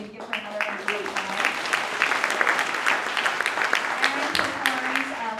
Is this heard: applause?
yes